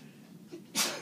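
A single sharp sneeze bursts out near the end, a brief loud breathy explosion after a short intake of breath, close by in a quiet room during an anatomy lecture.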